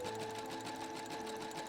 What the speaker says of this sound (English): the overlock function on my machine to clean up the edges of my fabric so I didn't have raw edges in there